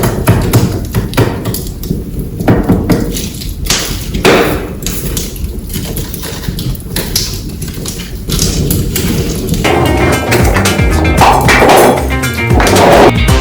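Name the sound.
big firewood logs being removed from a cooking fire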